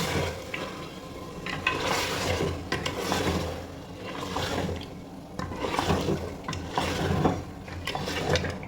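Mutton biryani masala with onions being stirred and sautéed in a pot: steady, repeated scraping and rasping strokes of a spoon against the metal, close and continuous with no talking.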